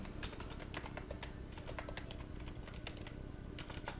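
Computer keyboard typing with quick, uneven clusters of keystrokes across four seconds. The clicks stay steady and close throughout, with no voices.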